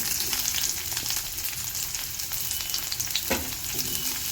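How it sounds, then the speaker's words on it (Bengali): Chopped onions frying with chicken in a pan, a loud, even sizzle close by that holds throughout with a few small pops and scrapes. "পেঁয়াজ কুচিটা দিয়ে দেব।"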